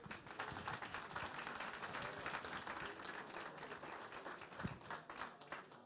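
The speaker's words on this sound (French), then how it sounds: "Je vous demande d'applaudir chaleureusement l'ensemble de ces présidents." Audience at a harness racing prize ceremony applauding the racecourse presidents, a continuous dense patter of clapping heard faintly from a distance.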